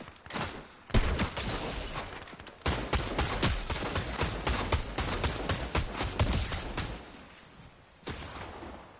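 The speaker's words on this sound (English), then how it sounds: "Who's shooting at me?" Gunfire in Fortnite, rapid bursts of shots crackling close and loud in dense volleys, with a short pause early on and a final burst after a brief gap.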